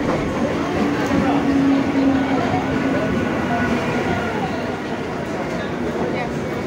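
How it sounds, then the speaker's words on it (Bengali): A train pulls into Kanchrapara railway station on a wet evening, a loud, continuous rumble of wheels and carriages filling the platform, with a brief tonal squeal and crowd chatter mixed in. "তো চলো ট্রেন ঢুকুক"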